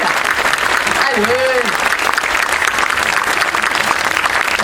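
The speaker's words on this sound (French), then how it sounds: "on peut les applaudir bien fort, s'il vous plaît" An audience applauds steadily and loudly for nominees at an evening welcome event, dense clapping filling the whole stretch while a voice speaks briefly over it.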